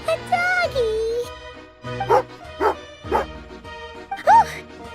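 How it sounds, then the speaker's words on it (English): Angry dog barking in Genshin Impact, a few sharp bow-wow barks mixed with yips and a whimper, loud and close over a steady orchestral game soundtrack. "Oh, a doggy."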